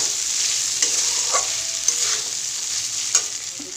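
Soaked flattened rice fries in a pan with a steady close sizzle while a spoon stirs it, adding occasional scraping clinks against the pan.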